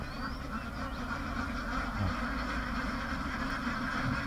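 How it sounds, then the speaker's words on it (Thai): Ducks quack in a steady, noisy chorus close by, beside a duck pen, their calls blending into a constant buzzing din with no pauses. "มีเป็ด เขาเลี้ยงเป็ดอยู่ตรงนี้เนาะ"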